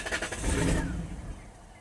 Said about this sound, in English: The car starts right up and immediately dies.